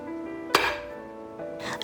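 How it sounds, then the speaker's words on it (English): A cake pan of red velvet chiffon batter is tapped on a counter, giving two or three sharp knocks with a faint metallic ring, clear against quiet background. "Shake it, tap it a couple of times to get off the big bubbles"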